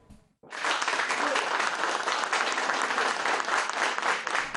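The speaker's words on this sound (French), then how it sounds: "C'est avec ces applaudissements des journalistes algériens présents ici à Douala que Djamel Belmadi a débuté son point de pre" Algerian journalists at a press conference in Douala break into steady, dense applause after a brief quiet moment, sustained and fairly loud to the end.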